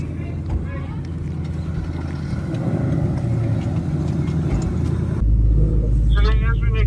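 Several Ford Mustang Dark Horse V8 engines idle and rumble close by with a low steady drone that grows louder and heavier near the end, while people talk over them.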